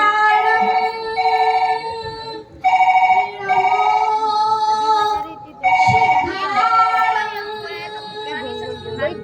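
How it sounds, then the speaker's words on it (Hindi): A telephone rings with a repeating electronic melodic ringtone in bright, regular bursts, continuing through the whole stretch alongside faint background sounds. "अरे दीदी का फोन, लगता है कुछ बात हुई है"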